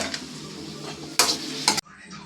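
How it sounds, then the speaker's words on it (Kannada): Tomatoes fry in a pan with a steady sizzle while a utensil stirs them, giving a few sharp scraping clatters against the metal up close, and no voices. "Tomato fry ಆಗಲಾ?"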